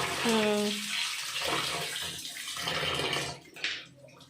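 Running water poured over fish as it is washed with salt: a loud, close, continuous gushing splash, like a tap running into a basin, with a voice partly audible underneath.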